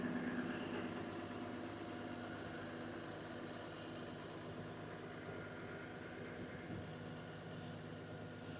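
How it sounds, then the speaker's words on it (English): A 2011 Kenworth T370 maintainer truck with a crane body idling, a faint, steady low engine drone with a faint even hum above it, unchanging throughout. "The truck idles up."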